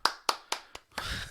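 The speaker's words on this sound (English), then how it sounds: "Let's all give her a little applause." A few separate hand claps sound close, four quick ones followed by a short burst of overlapping clapping, like a small, brief round of applause in a room. Nobody speaks over it.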